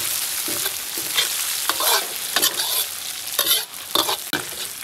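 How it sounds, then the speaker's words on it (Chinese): Scallion, ginger, Sichuan peppercorns and dried chilies frying in hot oil in a wok, a steady close sizzle with repeated scraping stir strokes throughout. "锅中加油，葱姜爆香， 花椒、麻椒、干辣椒。"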